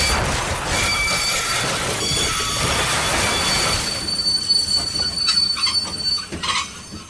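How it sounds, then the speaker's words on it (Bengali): A train brakes to a sudden stop, its wheels squealing loudly and steadily for about four seconds against the rails before the screech eases into quieter rumbling and fades, with no voices. "সেই সময় আচমকা ট্রেনটা থেমে গেল।"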